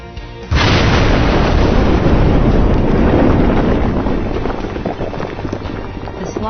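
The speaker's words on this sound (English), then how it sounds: "the mine is evacuated for the impending blast" An underground mine blast, shown in an animated visualisation, opens with a sudden deep boom and becomes a loud, sustained rumbling roar that slowly fades over several seconds.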